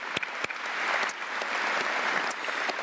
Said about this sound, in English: How about a round of applause for all the teachers?